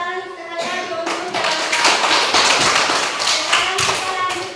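A classroom group breaks into applause, scattered claps building into a dense, loud burst that holds steady for several seconds before thinning slightly, close by.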